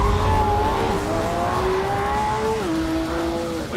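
Porsche 911 GT3 RS driving at speed, its engine note rising steadily through the revs before a brief dip at a gear change, loud and close with no talking.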